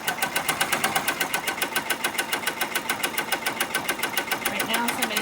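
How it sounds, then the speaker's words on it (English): An EMP6 machine running with a rapid, steady mechanical clatter, close and loud, its evenly spaced beats holding a fast regular rhythm throughout. "I can hit the flashing green light to start the machine, and it's going to go do its business, just like that. It starts out slow, speeds up as it goes."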